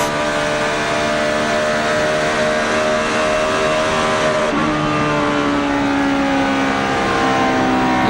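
Several NASCAR stock cars roar around the Michigan oval during the LifeLock 400, with a loud, steady engine drone of layered harmonics and a pitch shift partway through as cars pass close by.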